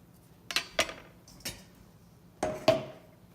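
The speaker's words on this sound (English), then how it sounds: "cut the top part of the onion off" A knife cuts the top off an onion on a board: five crisp taps and thunks, sparse and close, in two groups with quiet gaps between.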